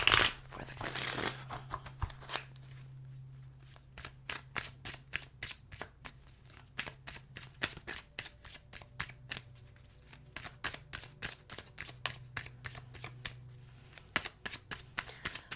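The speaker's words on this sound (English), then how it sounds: "I'm getting so good at shuffling like this that's why they're not popping out" Tarot cards are shuffled in quick repeated riffles and taps, crisp papery flicks close by with no talking, continuing steadily for the whole stretch.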